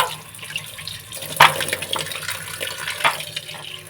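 Tap water runs steadily into a sink while fish are washed, with a couple of sharper splashes and clatters breaking through the close, continuous flow.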